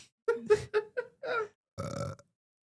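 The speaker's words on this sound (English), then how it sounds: "Who burped? I did." A single loud, drawn-out burp, close up and crisp, following a few brief vocal noises, then silence.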